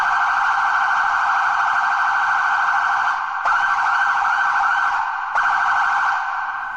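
Porsche Cayenne response vehicle siren cycling through yelp and piercer tones: a loud, steady electronic wail broken by two short gaps where the tone switches, close by and with no voices.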